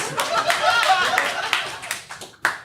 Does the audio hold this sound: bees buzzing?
no